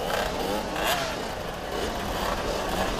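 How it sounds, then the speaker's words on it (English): Several rallycross car engines rev at the starting gate of a race at Sigiriya, with overlapping, rising and falling engine roars heard at a moderate distance. "Well, revving the engines."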